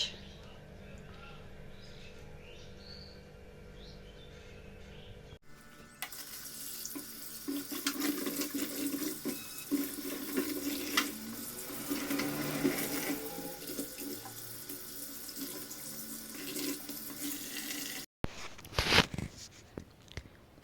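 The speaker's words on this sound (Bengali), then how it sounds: "মাছগুলোকে আগে ধুয়ে নেব" Tap water runs into a sink while fish are being washed, a steady splashing gush after a quieter opening stretch, with clatter and handling noises near the end; birds are faint in the background.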